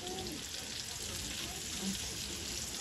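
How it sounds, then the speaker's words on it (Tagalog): Soft, steady sizzling of vegetables frying in butter in a pan, a low crackling hiss with faint speech in the background. "Yan, napiprito-prito na po."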